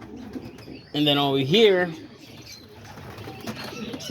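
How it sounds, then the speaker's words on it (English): Homing and roller pigeons coo softly in a loft, with someone talking over part of the calls. "all these pigeons over here"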